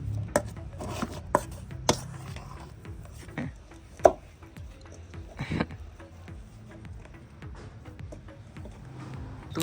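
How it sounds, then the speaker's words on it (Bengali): Boiled sweet potatoes are mashed by hand in a kitchen, making a series of irregular soft thuds and taps that are louder at the start, then thin out to sparser knocks. "এবার আলু ম্যাশ করে নিচ্ছে।"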